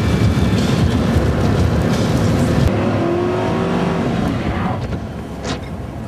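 A 2001 GMC accelerates, with loud, steady engine and road rumble filling the cabin throughout and a rising tone as it picks up speed; no one speaks.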